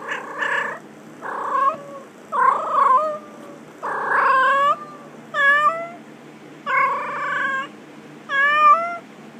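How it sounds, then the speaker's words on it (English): A cat meows repeatedly and loudly up close, about eight drawn-out calls in a steady rhythm, with a soft purr-like rumble between them and no speech. "They make my kitty meow."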